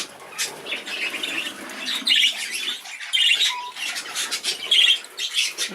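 Young budgie chicks in a breeding box give repeated shrill squawks in bursts, mixed with rustling and wing flaps, close and fairly loud throughout.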